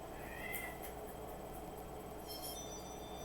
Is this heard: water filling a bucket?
no